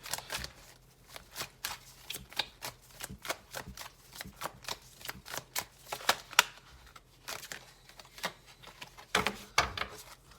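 Tarot cards are shuffled by hand in a steady run of crisp riffling and flicking bursts, close and fairly quiet, with no one speaking.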